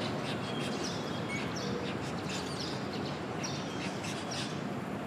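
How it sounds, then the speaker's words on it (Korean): A dense flock of birds nesting under building eaves in Taipei chirps continuously, many overlapping tweets against a loud, steady wash of city noise. "이 처마 같은데 새가 엄청 많이 살고 있어요"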